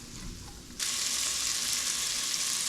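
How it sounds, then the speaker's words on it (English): Pancetta hits a hot Dutch oven and bursts into a loud, steady sizzle that holds without a break, after a quiet start, while it renders for a Tuscan ribollita stew. "Look at that sizzle."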